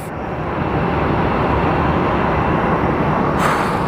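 A United Airlines jet passes by at Phoenix Sky Harbor Airport, its engines producing a loud, steady broadband roar that holds nearly constant for several seconds.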